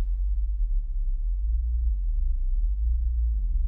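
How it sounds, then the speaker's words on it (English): A steady low-pitched sine wave test tone from a test oscillator hums continuously and evenly, with no other sounds, holding at a constant level throughout. "We can turn on the old sine wave here and the test oscillator."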